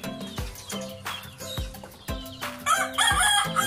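A rooster crows loudly and nearby several times in a row, with other chickens clucking in the background.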